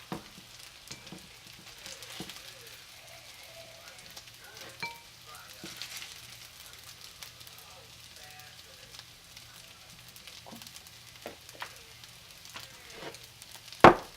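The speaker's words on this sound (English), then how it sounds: "now it's just frying up a little bit" Chicken fried rice with carrots and onions sizzles in a pan, a steady soft frying hiss with occasional pops and scrapes, and a sharp clatter at the very end.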